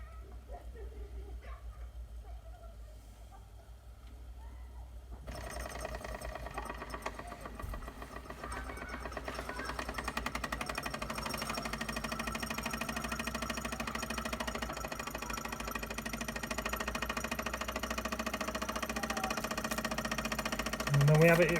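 Mamod long boiler SR1 model steam engine running steadily, a continuous rapid mechanical chuffing and hiss that starts up partway through and continues evenly to the end; a voice is heard early on.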